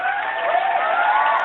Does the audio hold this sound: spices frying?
no